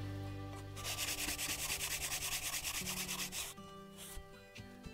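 The wooden body of a hand plane is flattened by rubbing it on an abrasive surface, producing a quick run of rhythmic, close scraping strokes for a few seconds, then a few faint taps.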